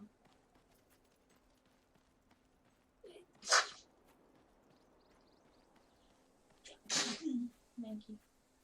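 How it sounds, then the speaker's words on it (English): A man sneezes sharply up close in a quiet room, with a second sneezy burst and a short vocal sound a few seconds later over a faint low hum. "I'm probably the only one who thanks Jesus when I sneeze"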